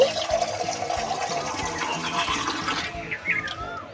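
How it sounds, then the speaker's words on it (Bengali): Tap water runs steadily into a container, filling it for kneading real flour during a child's toy cooking session, with a continuous rushing splash and some background voice mixed in. "বন্ধুরা দেখো, এখান থেকে আমি একটু জল নিয়ে নিচ্ছি"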